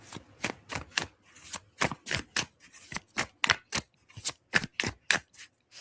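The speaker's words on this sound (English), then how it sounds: "I'm working on that shuffle, dang it." Oracle cards being shuffled by hand: a quick run of about sixteen crisp, papery riffling bursts in a steady rhythm, close and fairly quiet, with no talking over them.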